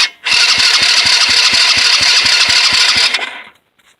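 Tao Tao four-wheeler cranked with a push-button start, a loud rapid rhythmic churning of the starter for about three seconds that stops without the engine catching.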